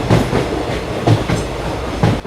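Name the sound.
train running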